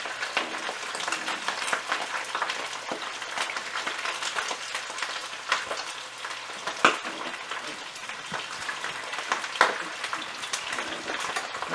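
Skin-on chicken pieces frying skin down in hot lard with no breading crackle and sizzle steadily, a dense close hiss broken by occasional louder pops, with no talking over it.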